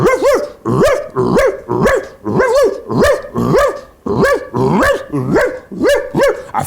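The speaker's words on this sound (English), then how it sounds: "A ferocious dog could be heard barking in the back." A ferocious dog barks loudly and close by in a steady rhythm, about a dozen harsh barks with a growling edge, alone with no voices.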